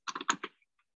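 Quick bursts of typing on a computer keyboard, several rapid clicks close together then a couple of faint isolated taps, heard alone at close range.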